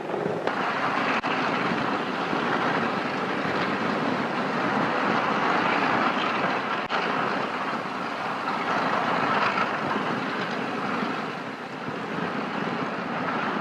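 A 1930s Imperial Airways airliner's engines drone steadily, a loud, broad, continuous roar that holds for several seconds with a slight dip near the end.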